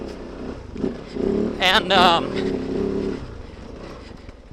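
A KOVE 450 Rally US production motorcycle runs with a steady engine drone that swells briefly, while a rider talks over it partway through.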